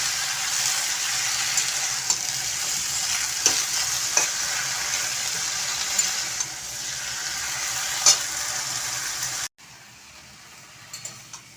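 Malabar spinach cooking with fish roe and onion in a pan, a bright continuous sizzle with intermittent stirring knocks, cutting abruptly to a quieter simmer near the end.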